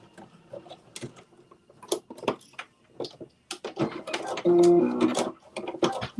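A domestic sewing machine back stitches on a Simplicity S9463 garment, with short mechanical bursts of rapid stitching in between quieter handling clicks and rustles, near and moderately loud.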